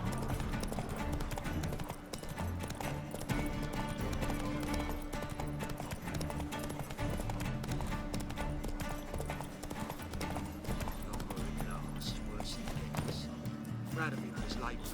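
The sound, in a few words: horse Roach galloping, from video game The Witcher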